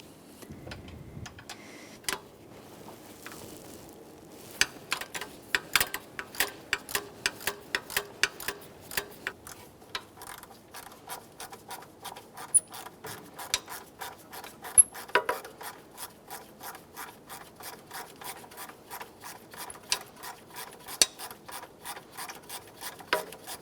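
A 14mm ratchet turning out a drive belt tensioner mounting bolt on a Toyota Sienna, a long run of rapid, quiet, evenly spaced metallic clicks close by.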